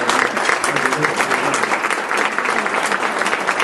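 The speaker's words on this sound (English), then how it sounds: "How about a round of applause for the President of the United States?" A crowd at a children's award ceremony claps for the President of the United States, a loud, continuous burst of applause with dense overlapping hand claps and no voices above it.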